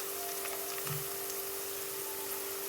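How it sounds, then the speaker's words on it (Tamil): Iruppam (mahua flowers) fry in oil for a tamarind pickle, giving a soft, steady sizzle with faint crackles and a light stir, heard alone and fairly quiet. "இதோட பச்சை ஸ்மெல்லெல்லாம் போய் நல்லா ஃப்ரை ஆகி வந்துருச்சு"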